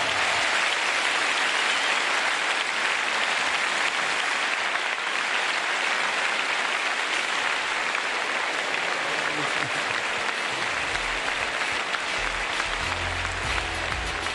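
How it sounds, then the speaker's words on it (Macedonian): Loud, sustained audience applause fills a hall at the Zlatna Bubamara 2018 awards show, greeting guitarist Vlatko Stefanovski; dense steady clapping and crowd noise continue throughout without letting up. "Ве молам, огромен аплауз за маестро Владко Стефановски!"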